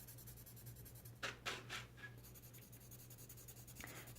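Soft, scratchy watercolor pencil strokes rub across paper in a few short bursts, quiet and close, with a brief pause between them.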